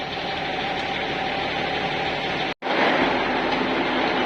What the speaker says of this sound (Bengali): লঞ্চ বেশ ভালো স্পিডেই চলছে।